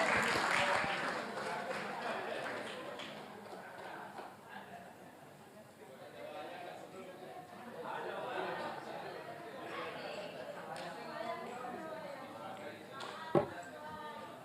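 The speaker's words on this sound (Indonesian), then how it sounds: "Langsung saja kita berikan tepuk tangan yang meriah untuk Bapak Roy Suryo." Audience applause greets a guest at an evening gathering at a university in Indonesia, clapping spread through the room at moderate volume, easing off midway and then rising again, with voices mixed in.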